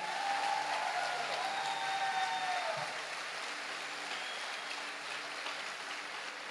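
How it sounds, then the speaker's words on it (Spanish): Broad, continuous applause from a church congregation washes through a large hall, fairly distant and diffuse, with a faint tonal sound early on before it settles into an even roar. "dale el aplauso a Jesús"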